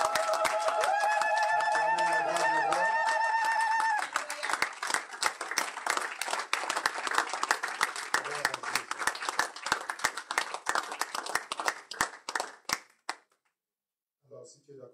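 A church congregation breaks into sustained applause in praise of Jesus, a dense, close wash of clapping that follows a few seconds of held musical tones and then tapers off abruptly.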